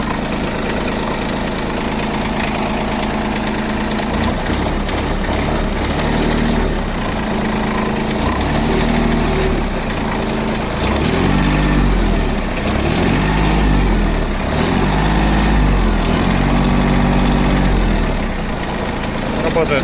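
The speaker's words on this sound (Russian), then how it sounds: "Работает мотор хорошо, на газ реагирует также достаточно быстро, набирает обороты." A Mitsubishi MT155 small tractor engine idles steadily and loudly, chugging with a constant rumble and rattle throughout, close to the listener.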